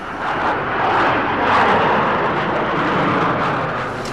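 Jet airplane engine in flight above the Everglades, a steady broadband roar with constant thrust, loud and close, holding evenly throughout with no talk over it.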